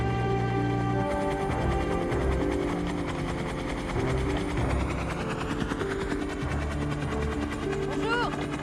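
A helicopter approaching to land in a French action film, its engine whine and rotor thrum loud and continuous, with voices talking over it.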